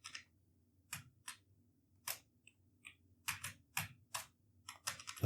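Keys clatter on a computer keyboard connected to a Sinclair QL-compatible Q68 FPGA computer, in short, irregular clusters of clicks, close and fairly quiet, over a faint background hum.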